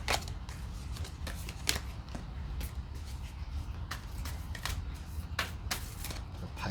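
Oracle and tarot cards being shuffled in a series of crisp, rapid riffles and flicks, each burst of slapping card edges repeating close to the mic with brief pauses between them, no voices.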